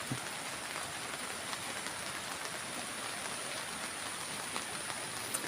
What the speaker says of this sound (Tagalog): Sa lakas po talaga ng ulan.